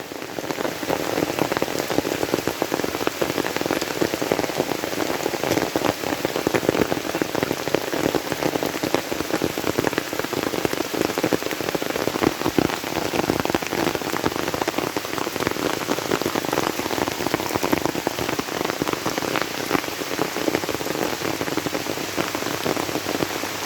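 Steady rain pours down without pause, a dense hiss of drops striking surfaces close by, early monsoon rain in Kerala arriving before June, with no voices over it.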